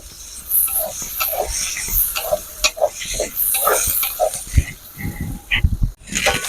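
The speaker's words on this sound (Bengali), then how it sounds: "এই পেঁয়াজগুলো আমি ভালো করে ভেজে নেব পেঁয়াজটা ভালো করে ভেজে নেবো" Onions frying in a pan for palak paneer, a soft steady sizzle broken by repeated scraping and clattering strokes of a spoon stirring the pan.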